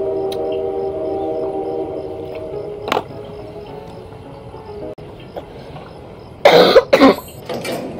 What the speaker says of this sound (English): When I pressed record, I immediately coughed.